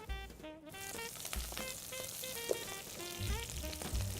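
Watercress hitting hot oil in a pan for a veggie Wellington filling, giving a steady frying sizzle with a few louder crackles and pops, close by with no talking.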